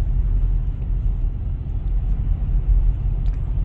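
Car rolling through the long Atal road tunnel at around 50 to 60 km/h, a loud, steady low rumble of engine and road noise echoing continuously with no breaks.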